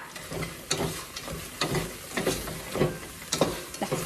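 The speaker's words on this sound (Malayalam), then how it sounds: "ഇത് നന്നായിട്ട് ഇങ്ങനെ ഇളക്കി കൊടുക്കുക." Fried cauliflower for Gobi Manchurian is stirred into sauce in a pan over a high flame, giving a soft steady sizzle broken by repeated scraping, clattering strokes of a spoon about every half second.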